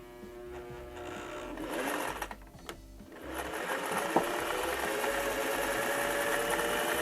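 A sewing machine stitching a placemat mini tote, its motor whirring in bursts with a brief pause in the middle before it runs steadily again, fairly quiet and close, with no talking.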